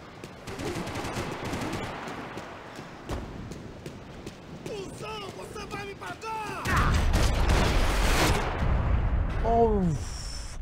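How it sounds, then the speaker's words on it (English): Gunfire from Max Payne 3 during a bank attack, scattered shots and impacts that build into a louder, denser burst of fire with rumbling low end, while someone speaks over parts of it. "kafadan çaktım mermiyi"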